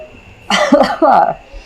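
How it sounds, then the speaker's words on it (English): Two sharp, close coughs in quick succession, harsh and throaty, with nothing else around them. "They make you cough."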